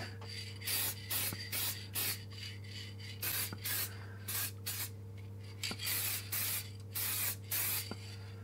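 Spray gun laying a tack coat of paint onto a Suzuki trackbike engine casing, a series of short hissing bursts in a steady rhythm over a constant low compressor hum, close and fairly loud.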